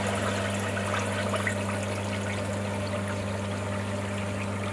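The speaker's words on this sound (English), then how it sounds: "I'll go ahead, open the waste valve, keep that bubbling" Water rushes steadily from the opened waste valve of a Nexus pond filter during cleaning, a constant close draining flow with a low steady hum running underneath throughout.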